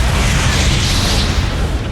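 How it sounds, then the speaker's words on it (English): A powerful bomb blast rendered as a loud, sustained roaring rumble that stays dense and steady for its whole length, with no distinct onset or decay. "The bomb was extremely powerful."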